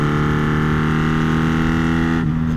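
A Honda Magna motorcycle holds a loud, steady engine drone in fifth gear, close up, with the pitch shifting slightly near the end.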